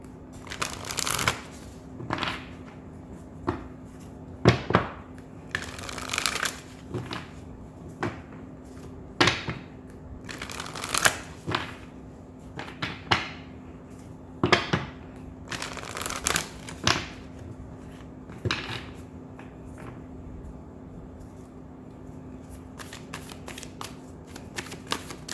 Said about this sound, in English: So let's pull from this Moonology deck.